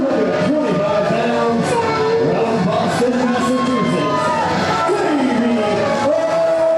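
A wrestling arena crowd in Saskatoon roars continuously, with whoops, shouts and cheers layered into a loud, dense wash that never lets up, while a commentator's voice cuts through.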